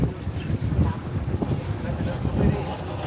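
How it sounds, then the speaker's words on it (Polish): Wind gusts across an Italian harbour, buffeting the microphone as a loud, rumbling roar with uneven swells and faint water and boat noise beneath. "Wieje."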